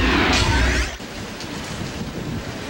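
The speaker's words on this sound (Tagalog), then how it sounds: "Malakas na ulan na sinasabayan ng malakas na hangin ang nararanasan doon." Heavy rain driven by strong wind during Typhoon Lando in Baguio City, a loud broadband rush with a brief gusting surge at the start, heard alone with no talk.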